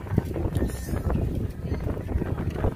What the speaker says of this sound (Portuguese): Pensa num vento gelado que tá aqui.